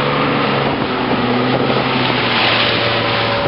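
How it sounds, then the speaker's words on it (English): An airboat runs through rough water, its engine drone steady and loud across the whole stretch with broadband wind and spray noise and no talk. "Probably the roughest that I've ever been in this air boat."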